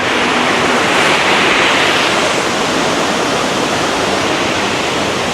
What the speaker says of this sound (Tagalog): On the way to Blue Lagoon, meron ba another waterfall? Pangalan niya Balabag.